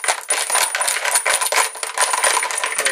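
Brass rifle cases, freshly chamfered, deburred and coated with homebrew lube, rattle and clink together continuously as they are shaken in a red plastic bin, a steady close metallic jingle with no voices.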